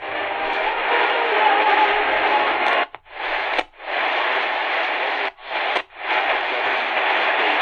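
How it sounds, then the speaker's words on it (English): Heavily band-limited music playing over WLUV AM from Loves Park, Illinois, received on a Tecsun PL-398BT, muffled and steady with static hiss and two brief dropouts. "Okay, we got music on WLUV, Loves Park, Illinois."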